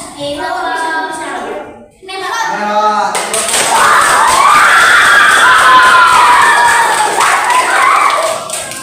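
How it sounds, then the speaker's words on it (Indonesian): Pupils in an Islamic religious education class burst into loud cheering and shouting with applause for a group, a sustained noisy crowd of children following a stretch of speech. "Tepuk tangan buat kelompok."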